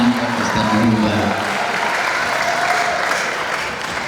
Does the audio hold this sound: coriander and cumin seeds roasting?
no